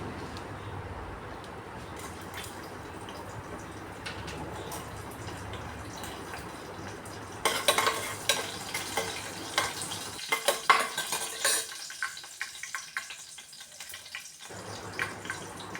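Ginger hisses and sizzles in hot oil with urad dal and mustard seeds, a steady close frying crackle that turns louder and spattery partway through, with sharp pops and stirring scrapes before it thins out near the end.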